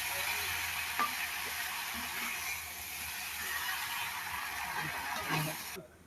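Cassava pieces sizzle and fry in a pan with onion, a quiet steady hiss with occasional scraping stirs and faint clatter, no speech over it.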